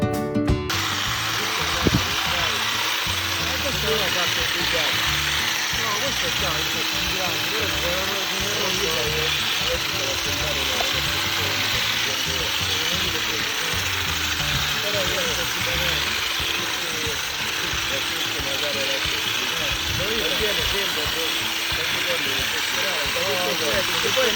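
An olive harvesting machine with oscillating fingers runs steadily and loudly through the whole stretch, a continuous mechanical drone and rattle in an olive grove in Sicily, with voices talking over it.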